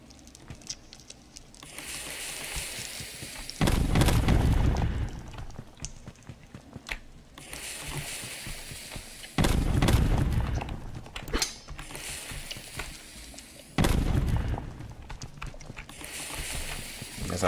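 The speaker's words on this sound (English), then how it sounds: "That's all bombs I got" Bomb explosions in the video game Rogue Heroes: Ruins of Tasos, three loud broadband booms about six seconds apart, each lasting under a second, over a busy bed of game sound effects and clicks.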